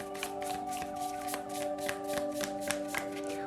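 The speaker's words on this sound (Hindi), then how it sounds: "शफल कर लेते हैं।" Tarot cards shuffled by hand in a steady run of soft, rhythmic riffles and taps, with a faint sustained musical tone beneath and no talking.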